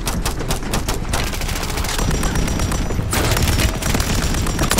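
Rapid, sustained gunfire from a first-person shooter, the Reclaimer 18 shotgun blasting shot after shot in dense, loud bursts with no pause across the whole stretch.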